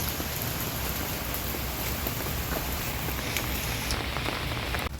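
Rain pours steadily over a natural farm with a grape vineyard, a dense, even hiss of drops hitting leaves and ground throughout, with no voices.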